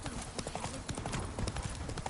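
Roach, the witcher's horse in The Witcher 3, trots with steady, close clip-clopping hooves, a faint whinny slipping in beneath the rhythm.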